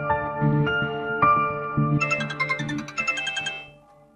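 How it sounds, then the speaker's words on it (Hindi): A phone ringtone plays a bright, repeating electronic melody, loud and close, with chiming notes that thin out and fade near the end. "मैं आशा दीदी को फोन करती हूँ और उनसे बात करती हूँ"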